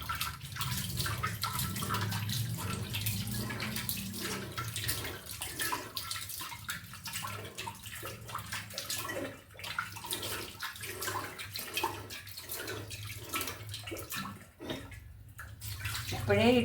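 Warm water is scooped by hand and poured back, giving repeated splashing and trickling pulses close up, with a low hum running underneath.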